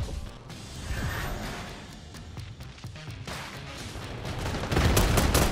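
Gunfire in the Black Ops 6 beta, with sniper rifles in use: a busy mix of loud shots and mechanical clatter, building to a heavier burst of fire near the end, with no voices over it.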